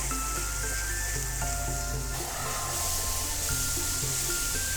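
Onion, ginger and garlic paste frying in a pan, a loud, dense, continuous hiss and sizzle up close, with faint tonal background music under it.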